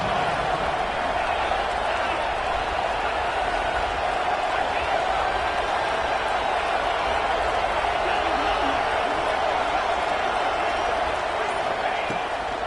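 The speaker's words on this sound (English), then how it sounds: "this crowd is ready" A football stadium crowd at an Ole Miss home game against Penn State keeps up a steady, dense roar of distant cheering throughout, with a commentator talking over it.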